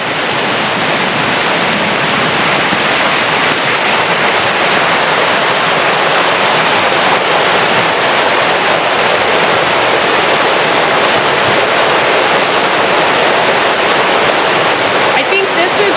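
A snowmelt creek on a forest trail runs fast and close, giving a loud, unbroken rushing hiss that stays constant from start to finish.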